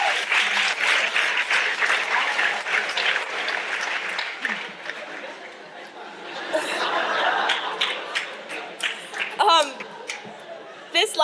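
A school morning-meeting audience gives a round of applause, with loud, sustained clapping mixed with chatter and scattered laughter that swells and fades, and a few sharper close claps near the end.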